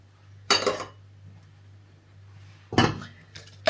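A lid is set down on a pot of salted water twice with two sharp metallic clatters a couple of seconds apart, over a steady low hum.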